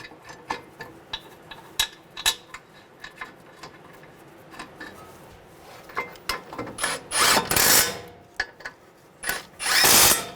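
Power tool driving brake caliper bracket bolts on a Honda CR-V front brake job, heard first as scattered clicks and knocks, then bursts of loud whirring at close range near the end, with no talking.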